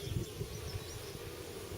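Honey bees buzzing at an open hive during an inspection with a brood box being added, a steady low continuous hum that is moderately loud and close, with no talk.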